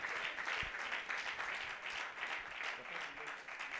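A church conference congregation claps together in sustained, fairly faint applause, a steady patter of many hands with no pause and no clear voices on top.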